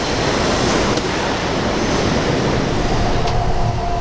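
Loud, steady rumble of a New York City subway train running underground, a constant roar with faint metallic screeching, no voices.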